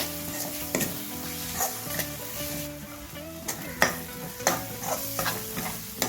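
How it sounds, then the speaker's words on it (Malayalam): Gram flour is heated in a pan and stirred, with repeated scraping and tapping strokes over a soft sizzle, plus a faint steady tonal hum in the background. "ഈ കടലമാവ് ജസ്റ്റ് ഇതിലൊന്ന് ചൂടാക്കാം. നല്ലതുപോലെ ഒന്ന് ഇതുപോലെ ഇളക്കിയ ശേഷം"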